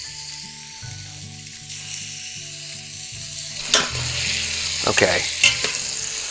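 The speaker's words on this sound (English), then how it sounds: "now we want to stir this bacon and butter mixture because we want to fry that bacon and get it a little bit crispy." Bacon and butter fry in an Instant Pot with a rising crackle and sizzle over a low electronic hum and beeping tones. Several sharp spatters burst out toward the end, and one brief spoken word comes early.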